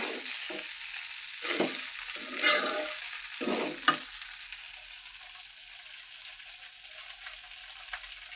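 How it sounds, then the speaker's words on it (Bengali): Eggs frying in a pot give off a soft, steady sizzle, with a few brief scraping stirs near the start before the hiss carries on quietly alone. "আমি এই যে এই পাতিলে ডিম ভাজি করছি"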